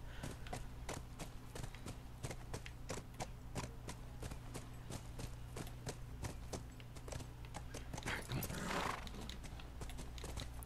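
Horse hooves in The Last of Us video game, a steady run of distinct thudding steps at a trotting rhythm, moderately close, with a brief rushing noise near the end.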